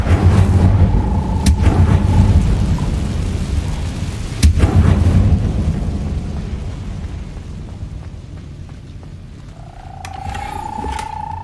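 Incendio fire spell in the video game Hogwarts Legacy: a loud, roaring, rumbling blast of fire dominates, with a couple of sharp cracks inside it, then it fades into a softer hum and a rising tone.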